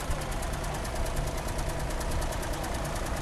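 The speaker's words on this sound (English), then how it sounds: "It is a Shepherd diesel." A Shepherd three-cylinder diesel engine powers an antique wide-front tractor at a threshing show, a steady dense chugging rumble with a rapid regular beat, loud and close throughout.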